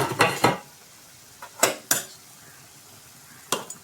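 A spoon scrapes and clanks against a pot of chicken curry, with the metal lid knocking in a few separate bursts between quiet pauses, close and without talking.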